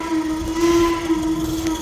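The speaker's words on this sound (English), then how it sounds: "The Heisler again performing perfect sound effects." Whistle of a Heisler steam locomotive at Roaring Camp during a live-steam gathering, a steady sustained tone held close and loud for the whole stretch, with no talking.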